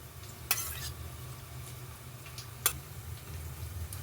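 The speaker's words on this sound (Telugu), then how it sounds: "ఇది మొత్తం మటన్కి పట్టేలాగా బాగా మిక్స్ చేయాలి" Mutton is stirred and mixed with garam masala, pepper, turmeric and yogurt for biryani, a soft, steady squelching churn close by, broken by two sharp clinks of a utensil against the bowl.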